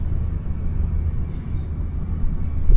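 Interior of a moving train in Suzhou, China: a steady, loud rumble of the carriage and wheels on the rails, continuous throughout with a faint hiss, and no voices.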